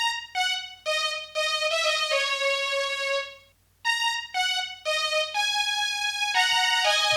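A bright Korg M1 synth lead plays a melody of sustained, sliding notes in two phrases with a short pause between, clear and alone with no voices.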